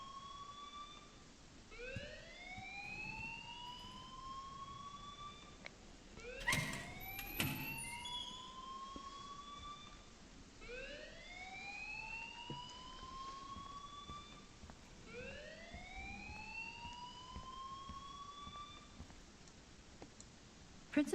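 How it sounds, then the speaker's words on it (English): Alarm in the video game Life Is Strange, a rising electronic siren wail that repeats about every four seconds at steady volume, with a brief burst of clicking partway through. "please turn off that alarm since that's your job"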